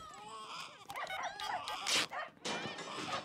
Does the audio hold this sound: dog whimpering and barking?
yes